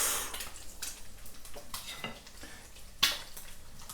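Bacon for a full English breakfast goes into a hot pan with a soft sizzle, broken by clinks and scrapes of utensils against metal and one sharp clatter.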